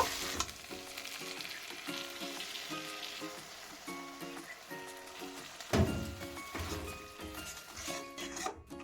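Spice masala fries in oil with curd added, a continuous sizzle under scraping and stirring strokes, with one sharper clatter midway; close, fairly quiet, no talk.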